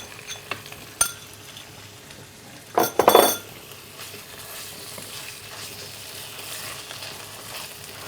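Chicken pieces frying in a pan for pulao, sizzling softly and steadily while a utensil stirs, with a few sharp clinks against the pan early and a brief louder scraping stir in the middle.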